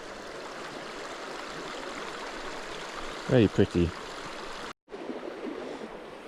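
The River Irfon in Mid-Wales flows in autumn as a steady rushing stream, heard close by under a brief spoken remark, with a short dropout near the end.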